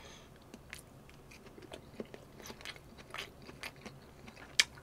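Someone chews a Korean zucchini pancake (aehobak jeon) up close, making soft, wet crunches and bites that continue steadily at a low level, with one brief sharper click near the end.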